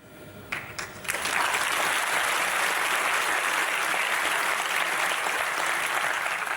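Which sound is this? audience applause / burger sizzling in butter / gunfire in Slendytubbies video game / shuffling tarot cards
audience applause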